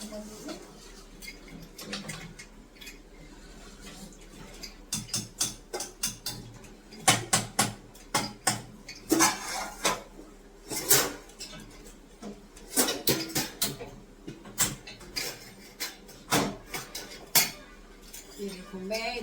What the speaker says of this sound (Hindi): इनकी अलग ही मस्ती चल रही है बर्तनों से